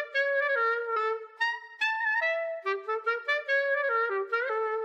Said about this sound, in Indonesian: Udah pasti klarinet.